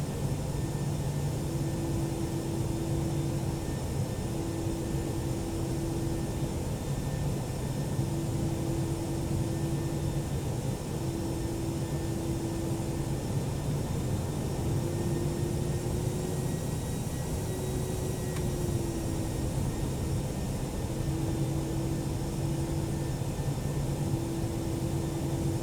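Steady cabin drone of an Airbus A319 airliner in flight in X-Plane 11, a constant broadband engine rumble with faint tonal hums, unchanging and alone for the whole stretch.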